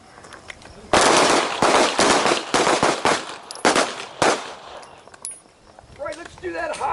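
Handgun shots crack out during a one-handed practical shooting drill in a combatives class: a loud, irregular string of about eight sharp reports, then a voice talking quietly near the end.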